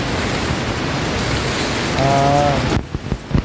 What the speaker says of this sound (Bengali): বৃষ্টিটা কমে গেছে